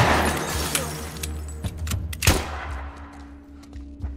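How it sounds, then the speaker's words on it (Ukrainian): Gunfire in The Last of Us Part I: a few sharp shots and a sharp crack crackle over a busy game soundscape, followed by fading ambience and a low hum. "А, це в нас стріляє, думаю, хто стріляє."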